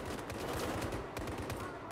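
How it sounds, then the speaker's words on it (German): Rapid enemy gunfire in a Battlefield 4 multiplayer match, a dense stream of crackling shots and bursts running steadily through the whole stretch with no clear pause. "Da ist ein feindlicher Schuss."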